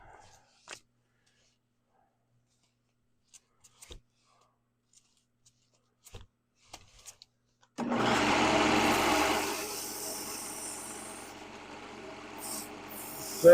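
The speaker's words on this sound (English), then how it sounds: "So Brett's sander." Brett's sander in a woodturning shop is silent at first apart from a few faint clicks. Then it kicks on partway through with a steady whirring drone that stays loud and close before easing slightly.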